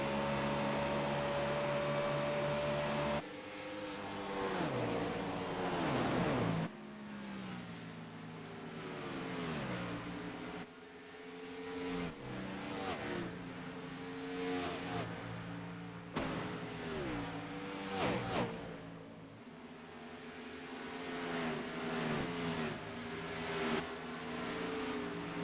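A race car in a racing video game pulls out of the pit with a full tank and four fresh tires, its engine droning steadily through repeated gear shifts and rising revs, loud and continuous with no talk.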